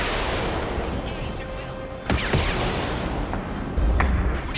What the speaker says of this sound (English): That's a lot of rockets, holy crud.